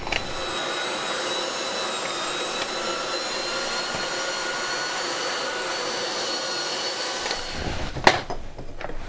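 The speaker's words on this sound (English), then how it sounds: "So I'm just going to mince the pork and the liver and the fat together using the coarse plate." An electric meat mincer with a coarse plate grinds pork, liver and fat, a loud steady motor whine with a constant tone that runs throughout, then knocks and clatters near the end.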